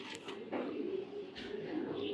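A young club-raced racing pigeon coos in a low, soft, continuous murmur close by, with a few faint higher chirps and clicks over it.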